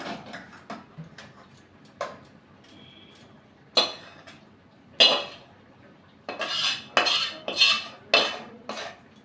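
Metal cutlery and dishes clink close by while a vegetable curry of drumsticks, potato and pumpkin with pea-lentil fritters is served onto a plate, a scattering of sharp taps and scrapes that grows busier toward the end.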